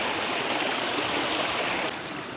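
A strong stream current rushes toward Hugasan Falls in Tagaytay, a steady, close hiss of flowing water that stays loud throughout and eases slightly near the end, with no voices.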